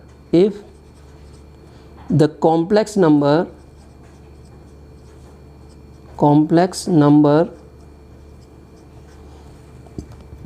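A marker writes a maths question on a board, making squeaky, tonal strokes. A short stroke comes first, then two separate clusters of rapid squeaks with quiet pauses between them.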